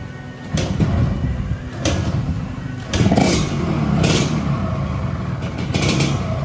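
A Yamaha RXZ motorcycle engine, not properly tuned, idles with rough, uneven rumbling and a few sharp revs, close by, with intermittent clanks.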